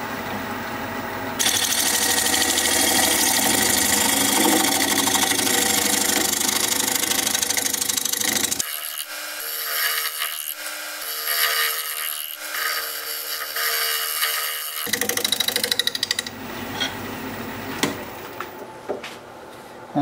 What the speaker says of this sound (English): Now I'm gonna switch to my negative rake scraper so I can really smooth them out.